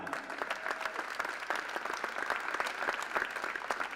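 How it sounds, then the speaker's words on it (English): Steady audience applause fills a pool billiards championship hall during player and official introductions at a women's 10-ball world final, dense overlapping claps at moderate distance with no speech. "Ladies and gentlemen, a big hand of applause to Gerald Florian."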